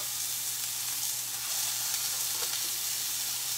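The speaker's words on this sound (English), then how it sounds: "We want that nice sizzling sound." Beef patties sizzle steadily in a hot cast iron pan, a bright continuous crackling hiss with a faint low hum beneath it.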